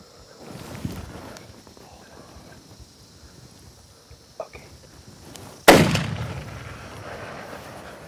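A single loud rifle shot cracks out during a hunt in the South African bush, its sharp blast followed by a long fading echo, with faint footsteps and rustling heard beforehand.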